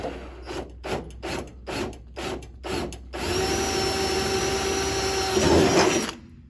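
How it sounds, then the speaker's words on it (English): A power drill bites in short bursts, then runs steadily with a high whining tone and gritty grinding before stopping, close up, drilling into a trailer light housing. "So I'm kind of drilling down away from the hole just a little bit"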